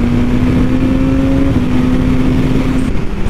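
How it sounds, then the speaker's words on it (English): A 2022 BMW S1000RR superbike accelerating hard under a loud, steady engine roar with a sustained tone. A quick-shifter change briefly drops the pitch midway, and the roar holds, close and constant, without speech. "First gear you can basically take off from planet Earth is crazy. This quick shifter is so smooth."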